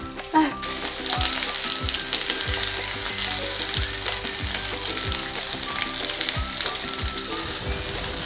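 Potato pancake batter with chili peppers sizzles and crackles steadily in a hot pan, with occasional soft scraping or clicking from a utensil, close and alone.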